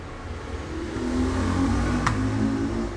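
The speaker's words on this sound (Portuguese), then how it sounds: "passa muito carro, muita moto aqui, faz barulho." Traffic of cars and motorbikes on a busy street, a low engine rumble swelling as a vehicle passes close by, with no talk.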